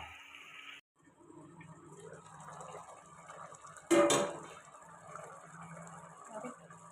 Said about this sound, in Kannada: ಇವಾಗ ಸ್ವಲ್ಪ ನೀರು ಹಾಕ್ಕೊತಾ ಇದ್ದೀನಿ.